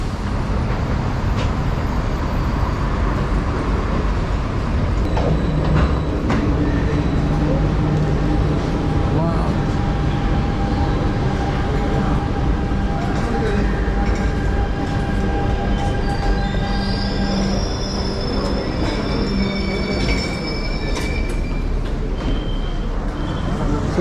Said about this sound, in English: Let's check out the subway station.